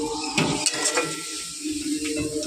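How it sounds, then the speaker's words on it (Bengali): Spice paste frying with a splash of water in a kadai for cauliflower khichuri, a soft continuous sizzle under a few light spoon scrapes and clinks against the pan. "একটু জল দিয়ে মশলাটা কষে নেব"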